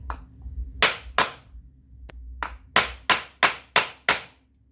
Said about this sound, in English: I haven't got a press, so we're just going to use a hammer